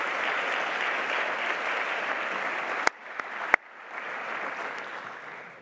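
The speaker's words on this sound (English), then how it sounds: "let's get a round of applause of all the representatives of the professors" Graduation-ceremony audience applauding in a large hall, a steady, somewhat distant roar of clapping that briefly drops away, with a couple of sharp knocks, before swelling back.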